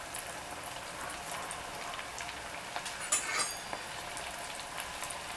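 Breaded pork cracklings fry in hot fat, a soft, steady sizzle with scattered crackles and small pops throughout, fairly quiet and with no voices.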